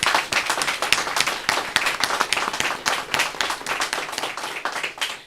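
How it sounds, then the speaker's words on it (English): A short round of applause for children at a neighborhood community event, brisk and dense with distinct individual claps, close and steady for several seconds. "let's give them one quick round of applause for a great job."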